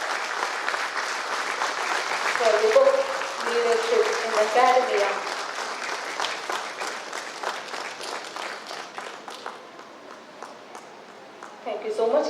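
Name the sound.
audience round of applause at workshop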